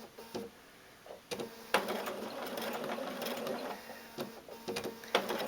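A sewing machine stitches fabric for a face mask in short intermittent runs of quick mechanical whirring and clicking, quiet and close, separated by pauses and small handling knocks.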